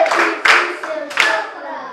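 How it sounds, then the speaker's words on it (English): Children in a primary three mathematics class clap together in short bursts, two or three rounds of clapping separated by brief pauses, close and fairly loud. "Can you clap for him again?"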